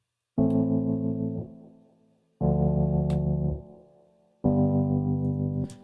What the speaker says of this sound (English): just a little bit of space with some delay and filtering out the Wurlitzer